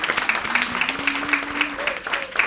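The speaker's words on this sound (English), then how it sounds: "I would like you to give a round of applause for Ms. Catherine Sealis and all the directors" Audience at a public ceremony applauding, a continuous crowd clapping with a voice speaking over it, close and fairly loud.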